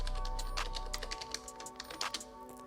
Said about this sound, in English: So you're going to type in your password that you want to use.